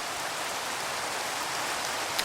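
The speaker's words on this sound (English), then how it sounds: "It's raining again." Rain falls in a city-building game, a steady, even hiss of downpour with no pauses and no other sounds.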